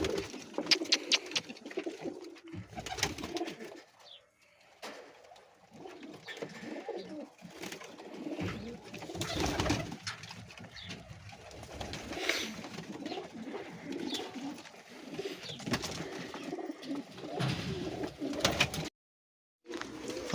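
Golden pigeons in a loft cooing, soft repeated throaty coos and rustling, fairly quiet and close, with a brief silent gap near the end.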